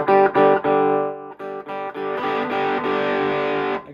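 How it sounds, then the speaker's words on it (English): Heavily distorted electric guitar chords ring out loud through a Peavey Encore 65 amp on its distortion channel, struck in short bursts and then held, with no voices. "So now I'll turn the distortion on, hit the button here"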